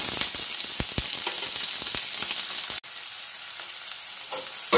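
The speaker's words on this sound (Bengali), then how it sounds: "এবার এই তেলের মধ্যে সবার প্রথমে পেঁয়াজ কুচিটা আমি দিয়ে" Chopped onion hits hot mustard oil and sets off a loud, dense sizzle with sharp crackles, broken by a brief dropout before the frying hiss resumes.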